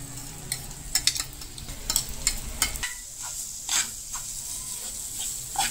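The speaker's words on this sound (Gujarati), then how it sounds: "જે પેસ્ટ બનાવેલી છે તે તેલમાં નાખી દેવાની અને સરસ રીતે શેકી લેવાની" A spiced paste sizzles and crackles in hot oil while being stirred and roasted, with scraping strokes throughout; the frying is steady and close, with no voices.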